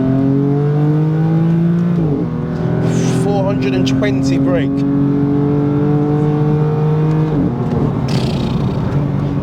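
BMW M4 exhaust rumbling and rising in pitch as the car accelerates on an open road, a steady loud engine drone with gear-change dips, with someone talking over it.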